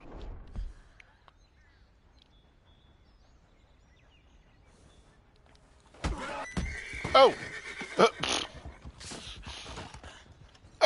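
A horse in Red Dead Redemption 2 whinnies loudly after a long quiet stretch, with hoof clops and rustling around the call and a brief exclamation from a person.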